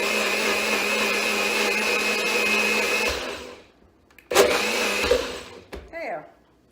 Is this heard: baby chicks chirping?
no